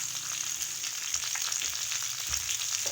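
Half a tablespoon of ginger garlic paste sizzling in a frying pan: a steady, close crackling fry with fine popping spatters throughout, alone with no voices.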